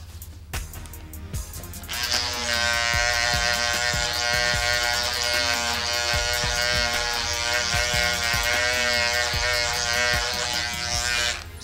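Electric hair clippers buzz steadily and close up while cutting a low skin fade at a barber's chair, switching on after a brief start and running continuously with small tonal shifts as the blade moves over the head.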